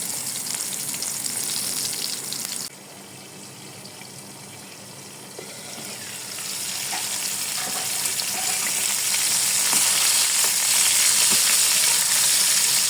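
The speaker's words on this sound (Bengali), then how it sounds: "অল্প হিটে এটাকে আমি একটু ঢাকনা দিয়ে ঢেকে 1 মিনিট ভালো করে ভেজে নিচ্ছি" Slices of bottle gourd fry in a pan on low heat, giving a continuous bright sizzle that dips briefly and then swells louder and denser, steady and close with no voices.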